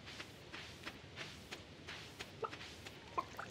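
A blue chicken in the farming game Stardew Valley gives soft, sparse clucks amid faint shuffling footsteps, all very quiet.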